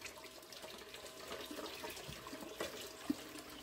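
A quiet, continuous wash of water flowing across a gold concentrating table, with a soft steady rush and a couple of faint small splashes or knocks near the end.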